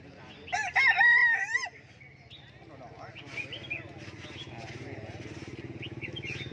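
A jungle fowl at a bird market in Lạng Sơn lets out one loud, close crow near the start, then crowd chatter and a low engine-like hum from the busy market fill the rest.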